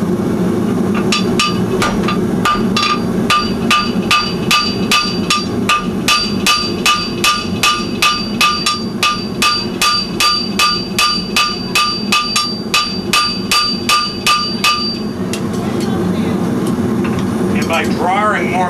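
Hammer on steel drawing a clip on a horseshoe for a Vibram wedge pad; loud, rapid ringing blows strike in a steady rhythm for about fifteen seconds over a low background hum, then stop.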